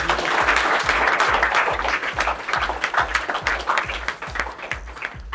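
Loud, sustained applause from an audience at a motivational talk, dense clapping filling the whole stretch with a steady low thumping underneath.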